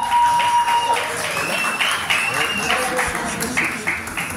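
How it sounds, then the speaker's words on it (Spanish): Loud, continuous applause from a crowd at a fifteenth-birthday (quinceañera) celebration with a youth mariachi band, filling the whole stretch with dense clapping and a few cheers, no instruments playing. "El aplauso de hoy."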